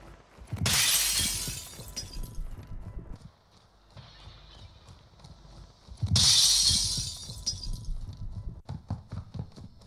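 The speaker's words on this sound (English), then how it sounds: "Here's a couple examples of glass shattering, showcasing the treble frequency range." Glass shatters twice in the Warzone 2 shooter game, each a bright, loud crash followed by tinkling fragments, separated by several seconds of quieter game ambience with faint ticking sounds.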